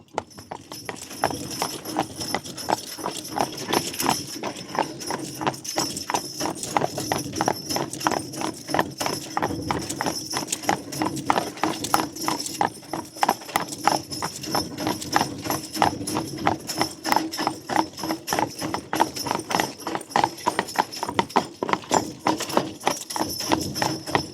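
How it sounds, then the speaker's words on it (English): A team of Belgian draft horses walks on a hard surface, their hooves clip-clopping in a steady, continuous rhythm with no talk over it. "This is a nice team of horses."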